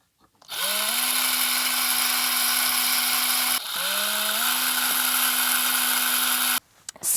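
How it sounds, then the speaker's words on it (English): Electric screwdriver driving M3 screws to fasten an IEC power socket on a dual Atari 8-bit power supply build, two long steady whirring runs of about three seconds each, close and loud, with a brief pause between them. "I'm also screwing down this IEC socket with some M3 screws"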